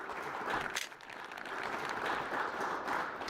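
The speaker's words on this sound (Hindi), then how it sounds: "जोरदार तालियां एक बार फिर से बजा दीजिए" Steady applause from an audience at a farmers' quiz event on crop residue and stubble management, a broad continuous wash of clapping that dips briefly near the start and then holds evenly to the end.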